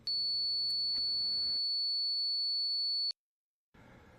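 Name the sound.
two online tone generator tones, 4000 and 4440 Hz, beating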